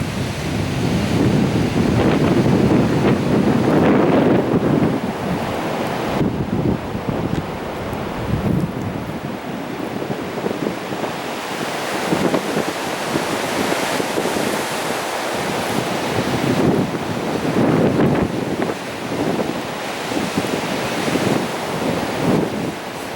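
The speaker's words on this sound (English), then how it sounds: "I don't know if you can hear it, but the wind is picked up." Strong wind roars across a frozen mountain hillside in the Presidential Range in winter, buffeting the microphone in heavy, surging gusts that rise and fall without a break and drown out everything else.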